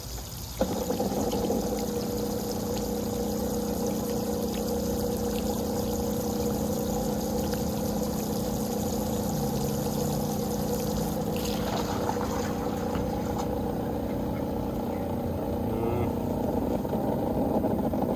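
An old above-ground pool pump converted for pond use runs steadily, a constant motor hum with water rushing through it, a sharp start near the beginning and shifting flow later on.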